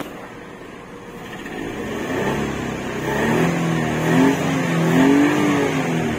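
A 2008 Chery QQ 308 engine runs steadily, a close, low mechanical hum with a faint whine that rises slightly as it revs toward the end, with no talking over it.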